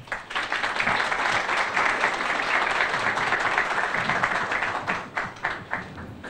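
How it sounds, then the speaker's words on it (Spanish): Sustained applause from an audience at an academic panel discussion on peace, dense and steady before thinning into scattered final claps. "Les recibimos a ellos con un fuerte aplauso"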